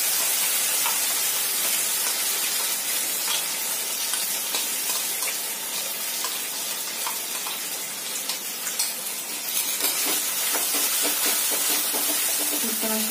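Tomato paste poured into hot oil with sautéed capsicum, giving a loud, steady, close hiss of frying that continues without pause for the whole span.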